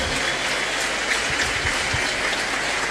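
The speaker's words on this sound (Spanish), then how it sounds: "Un fuerte aplauso para ellos que se convirtieron y volvieron a la iglesia como Pablo." A congregation applauds at a church gathering, a steady wash of many hands clapping at moderate volume with no voices over it.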